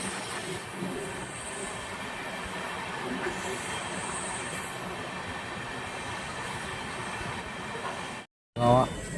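Porbandar Superfast Express pulling out of Gurgaon station, a steady rumble of rolling wagons and wheels with faint squeal, heard from aboard; a brief dropout near the end followed by a louder burst, with a voice present.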